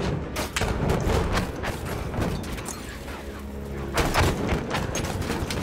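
Repeated grenade blasts in Battlefield 1 trench combat, arriving as several heavy thumps and booms amid scattered gunfire, fairly loud and close.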